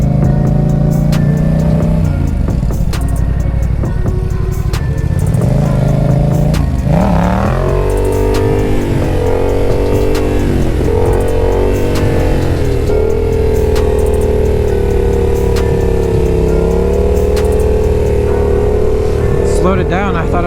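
A Yamaha XSR700 motorcycle built for stunt riding revs hard and close, its engine note climbing and falling through repeated throttle blips and sustained high revs, loud and continuous with strong wind noise over the microphone.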